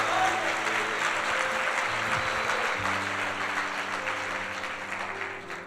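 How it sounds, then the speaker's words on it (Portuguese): A church congregation at a Sunday service breaks into steady, dense applause that fills the room for several seconds, with faint voices and a sustained organ or keyboard tone underneath, tapering slightly at the end. "Pode dar um aplauso ao Senhor."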